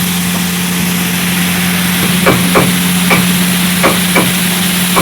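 Capsicum sautéing in oil for kothu parotta, a soft sizzle under a loud steady low hum, with several short scraping stirs of the spatula in the pan.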